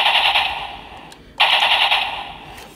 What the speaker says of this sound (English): If you just pull the trigger without rotating this, it just does a generic little 5 or 6 shot fire sound.